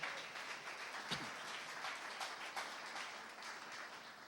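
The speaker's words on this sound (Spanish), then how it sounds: "Vamos a darle un aplauso al Señor" A church congregation applauds together, a steady, fairly faint wash of clapping that carries on for several seconds.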